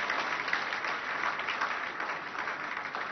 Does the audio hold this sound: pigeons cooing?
no